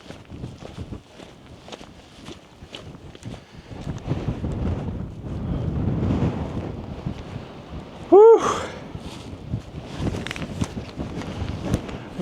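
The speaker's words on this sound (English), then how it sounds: "It's certainly breezy" Breezy wind gusting across an open Lake District fell near Esk Pike, a steady rushing buffet on the microphone that swells in the middle, with a brief sharp tonal chirp partway through.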